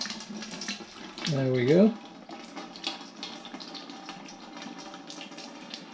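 Homemade summer garden fruit wine of gooseberry, blackcurrant and whitecurrant pours into a big pan with a continuous close splashing gush, then a brief burbling gulp from the vessel; a voice speaks briefly.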